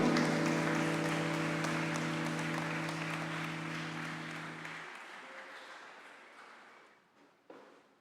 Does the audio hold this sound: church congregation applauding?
yes